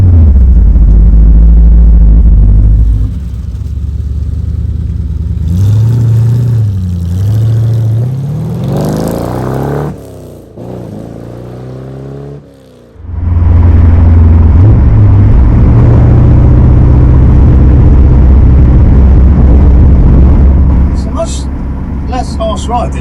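A 1967 Corvette Stingray's engine drones and rumbles up close on a damp road, the revs rising and falling through gear changes with a brief dip mid-way, then settling into a steady loud cruise.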